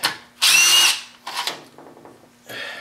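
Short, sharp bursts of an impact wrench breaking loose a tight bolt, two loud rattling hits followed by quieter buzzing pulses, close up.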